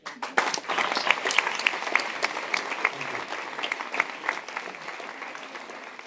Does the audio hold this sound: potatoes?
no